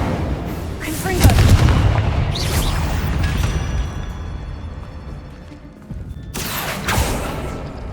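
Booming blasts from Confringo fire spells in the Hogwarts Legacy video game, a heavy impact near the start followed by sustained rumbling and further bursts later, with a voice over parts of it.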